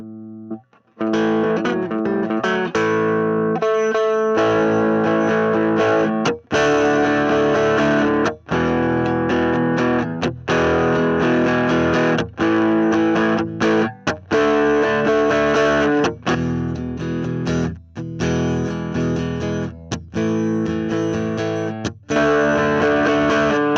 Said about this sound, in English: the nice thing about a Boss SD1 or an OverDrive pedal is that you can use the level to kind of use it as a boost